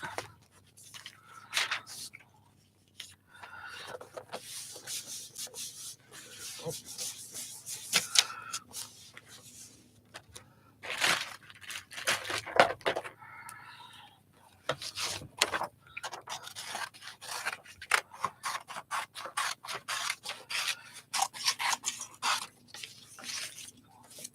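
Scissors cut a shape out of a sheet of white paper, giving soft, irregular rasping snips and rubbing sounds that come close and fairly quiet, with brief pauses and no talking.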